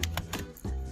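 Computer keyboard keys pressed during data entry in a Microsoft Excel spreadsheet, heard as several quick, close clicks in an irregular burst of about five strokes within one second.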